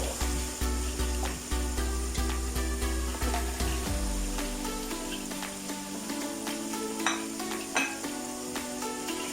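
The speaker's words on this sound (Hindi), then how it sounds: "इसको सिर्फ 2 मिनट के लिए भूनना है हमने, ज़्यादा नहीं करना।" Tender boneless chicken with black pepper sizzles and fries in a pan, with steady hissing, scraping stirs and occasional clinks from the pan, close and even throughout.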